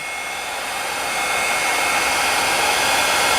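A hair dryer blows across a puddle of acrylic paint, giving a steady, close, broadband rushing whoosh that grows slightly louder and holds for several seconds.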